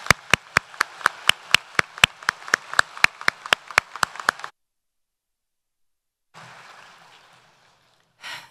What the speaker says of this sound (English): Another round of applause for our wonderful musicians.